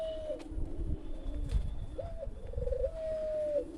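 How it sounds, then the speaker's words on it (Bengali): Pigeons coo softly nearby in a few drawn-out, throaty calls, with light rustling and low background noise between them. "এখানে আছে অনেক রকমের কবুতর"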